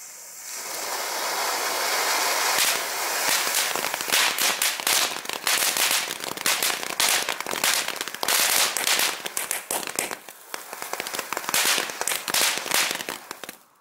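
Lidl consumer fireworks set off outdoors: a dense, loud barrage of firecracker bangs and crackles, rapid irregular pops stacked over a hissing rush that keeps going for the whole stretch.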